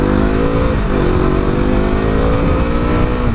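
A KTM motorcycle engine revs loud and close, a steady throaty drone with rising and falling pitch sweeps, heard alone with no talk.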